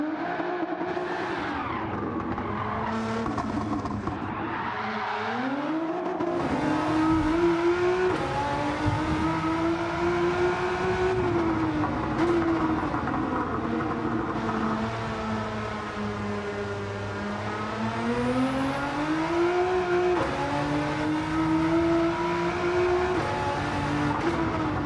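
Engine-swapped Lancia Delta handbrake-turning through the S-bends of the Eiger Nordwand circuit in Gran Turismo 7, its engine revving up and down continuously with tyre squeal and skidding, loud and sustained with no talk.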